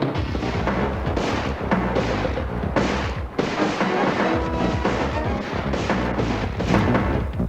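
Shotgun blasts fired by masked men bursting into a room in a low-budget action film, a dense, loud barrage of overlapping booms and cracks with music or effects underneath, sustained throughout with brief dips.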